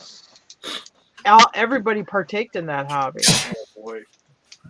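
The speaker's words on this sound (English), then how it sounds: "Boy, you're really sneezing." A single sharp sneeze bursts out partway through a relaxed conversation between several people, close and loud against the surrounding talk.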